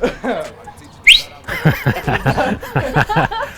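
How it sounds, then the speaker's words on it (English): A single short, loud whistle blast with a quick rising pitch, followed by people laughing and talking. "Did I scare you out with the whistle? That is loud."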